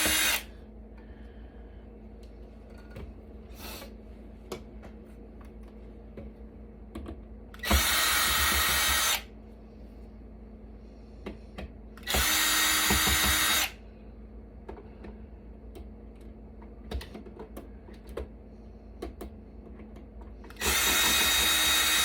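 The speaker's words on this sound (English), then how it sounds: "turn on the screwdriver" An electric screwdriver backing out screws while a Citrix WAN server is stripped for scrap, three loud whirring bursts of a few seconds each, close, separated by quieter clicks and handling of metal parts.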